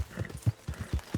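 The horse Wildfire in Red Dead Redemption 2 trots along with rhythmic clip-clop hooves, about six evenly spaced close thuds in quick succession.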